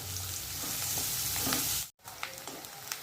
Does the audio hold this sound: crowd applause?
no